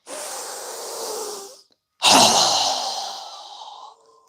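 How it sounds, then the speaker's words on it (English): Two strong exhales during yoga breathing exercises, each a long, breathy rush of air through the nose or mouth, close and fairly loud, separated by a short pause. "Strong exhale."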